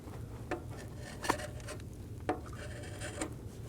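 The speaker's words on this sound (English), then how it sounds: "Using a scraper, we're going to clean the mating surface where our intake gaskets are going to sit." A hand scraper cleaning the intake manifold gasket mating surface on a 2008-2015 Scion xB 2.4L four-cylinder engine, faint rasping strokes repeating about once a second.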